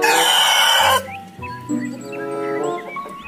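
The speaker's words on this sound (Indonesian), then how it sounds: "ternyata ini ayam jago" A rooster crows in a series of bright, clear calls after a loud burst of rushing water spray at the start, part of a toy animal cleaning scene.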